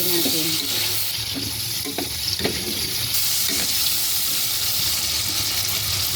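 Shrimp sizzle in a frying pan while being stirred for a broccoli and shrimp stew, a steady close-up crackle with scraping movements throughout and no talking.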